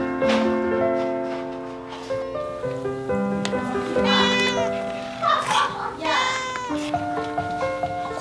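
Several cats meowing at an animal shelter housing rescued and abandoned cats and dogs, a chorus of overlapping, fairly close meows and drawn-out cries with no talking.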